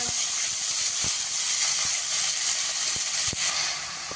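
Washed, drained fenugreek greens hit a hot pan with garlic, producing a loud, bright, continuous sizzle with scattered clicks of stirring.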